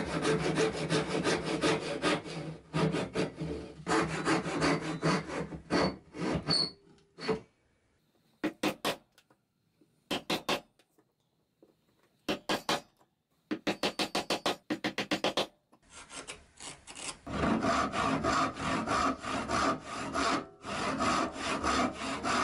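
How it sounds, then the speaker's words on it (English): A hand saw cuts wooden dovetails in a workbench top, rapid rhythmic rasping strokes up close, with sustained bursts at the start and end and choppier short runs of strokes between pauses. "I marked the shoulders off of the benchtop and then cut more dovetails."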